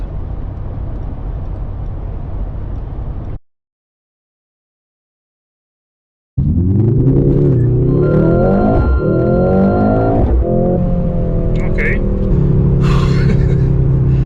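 A car is driven gently to warm up its tires; after a short gap of silence, a loud engine drone rises and falls in pitch, swelling as it pulls forward, steady and close.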